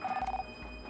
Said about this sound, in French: Je téléphone à Lee et à Tony.